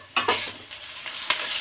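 Onions fry in a pan with ginger and garlic paste, a soft sizzle broken by a few stirring scrapes and clinks of a spoon against the pot, close by and fairly quiet.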